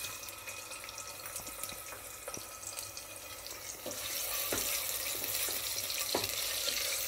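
Sliced medium onions hit hot oil or ghee for a Delhi-style mutton korma, giving a steady fizzing sizzle with scattered pops and crackles that swells louder partway through, with no talking.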